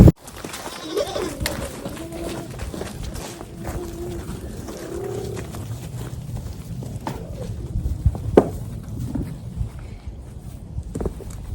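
Goats bleating in a farm shed at feeding time as straw bedding is brought down to the female goats, with several overlapping calls over a steady barnyard rustle and shuffling.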